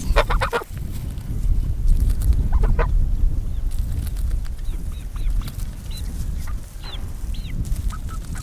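Pullets and chickens cluck and honk in repeated short calls over a constant loud background rumble, a busy flock close by with no talking.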